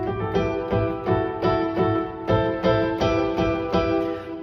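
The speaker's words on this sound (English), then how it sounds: "But if you take that same melody and put it onto a piano," Odysseus' motif played on piano in a minor key, evenly spaced struck notes in a flowing repeated pattern with resonant low bass underneath, full and steady, no talking.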